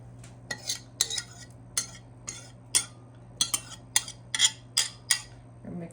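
A small whisk clinks repeatedly against a bowl, stirring dry muffin ingredients and frozen raspberries for sourdough discard muffins. Sharp metallic taps come in an irregular rhythm, close and fairly loud, with no talking.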